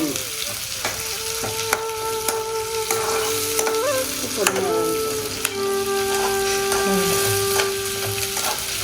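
Cubed large onion sautés in a pan for a paneer capsicum gravy, a steady sizzle running throughout with scattered spatula knocks and scrapes. A faint tonal hum sits underneath.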